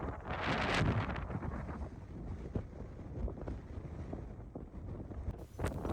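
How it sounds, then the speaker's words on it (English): Strong wind blows on the Falkland Islands, buffeting the microphone with heavy, continuous rumbling gusts that swell and ease, loud and close, with no voices. "With the next rest stop, the wind had really picked up."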